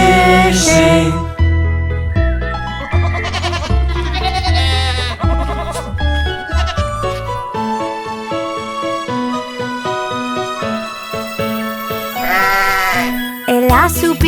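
Sheep bleating within a children's song, wavering bleat-like tones set over a bright musical backing with a steady beat, loud and up front.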